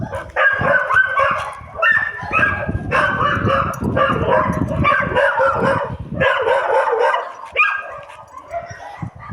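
Several dogs bark and yip in bursts close by, reacting as another dog named Panzer rushes into their territory, with a whimper or two between the barks.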